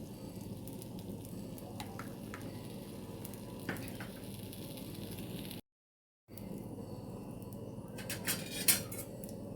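Oil poured around thalipeeth on a hot tawa, a quiet, steady low sizzle with light scattered clicks of a utensil, faint and close, broken by a brief silent gap and no talking.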